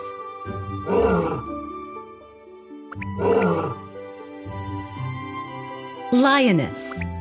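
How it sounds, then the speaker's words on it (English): Lioness roaring in a children's zoo animal-sounds game, three loud, rough roars spaced a few seconds apart over steady background music. "Lioness."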